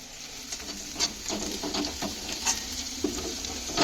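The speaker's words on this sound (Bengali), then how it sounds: "এখন চলেছে কড়াইতে রসুন ভাজা" Garlic fries in a hot wok (kadai), a steady close sizzle broken by small crackles and pops, with faint stirring clicks.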